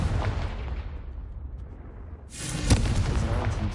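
A Confringo fire spell in the video game Hogwarts Legacy: a deep rumbling whoosh fades, then a sharp loud blast hits at close range and leaves a roaring, crackling tail.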